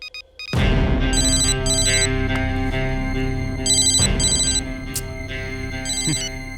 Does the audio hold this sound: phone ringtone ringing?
yes